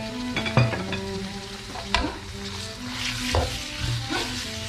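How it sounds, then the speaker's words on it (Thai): Pork belly stir-fried with red curry paste in a hot pan at an outdoor field kitchen: loud continuous sizzling with scraping stirs and a few sharp spatters, close up. "ตามด้วยหมูสามชั้นลงไปนะครับเพื่อน โอ้โหพริกแกงกระเด็นเลยครับ ด้วยความรุนแรง"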